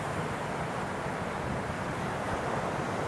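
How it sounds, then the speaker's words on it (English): Ocean waves at the north shore of Oahu near Haleiwa at sunset make a constant, even surf wash with some wind noise, and no one speaks. "And now we're going to check out the ocean."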